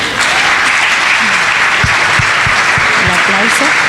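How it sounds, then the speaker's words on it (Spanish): Loud, dense applause from an audience greeting the panelists of an expert panel on healthy lifestyles, steady throughout, with low voices talking underneath. "Un aplauso."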